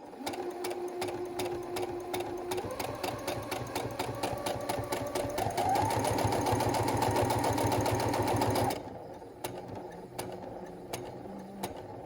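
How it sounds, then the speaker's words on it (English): A sewing machine stitches fabric for a face mask, a fast steady mechanical chatter of repeated needle strokes running continuously for about nine seconds before it stops and the room goes quieter. "let's go ahead and do our first stitch, and I will, well, it's gonna shake, so I'm not gonna talk"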